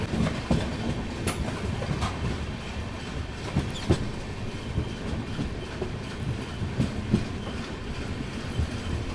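The Pinakini Express arrives at Nidubrolu station, wheels rolling with rhythmic clickety-clack and occasional metallic clanks, steady and fairly close.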